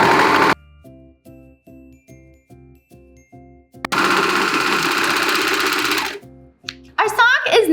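A sewing machine stitching a sock in a circle, running in short rapid bursts at first and then in one long continuous run. A voice speaks briefly near the end.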